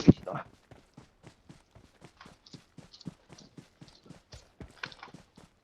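A horse gallops in the mobile battle royale game BGMI, a steady rapid clip-clop of hoofbeats close by, with a brief louder burst at the start and a person talking over it.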